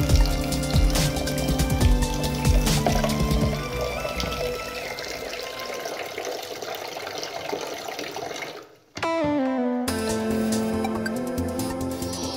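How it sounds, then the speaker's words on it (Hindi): Water is poured into a pot of oats to cover them: a continuous splashing stream for several seconds, a brief pause, then more pouring whose pitch rises as the pot fills. "अब हम पानी डालेंगे इतना कि ओट्स पूरा डूब जाए इस पानी में।"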